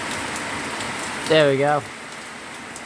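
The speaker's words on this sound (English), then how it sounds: "So much rain in just little time." Heavy rain pours steadily during a flood, a dense, even hiss of water that runs through the whole stretch, with someone briefly speaking partway through.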